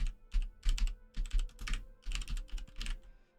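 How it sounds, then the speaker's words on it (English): Slow, uneven typing on a mechanical computer keyboard, close and clear, with clusters of sharp key clacks separated by short pauses and no talking. "I like how you can hear how slow I type because I've got what's it called, keyboard."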